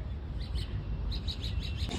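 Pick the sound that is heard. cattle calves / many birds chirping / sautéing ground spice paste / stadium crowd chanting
many birds chirping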